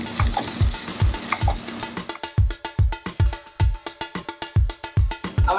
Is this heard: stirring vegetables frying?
yes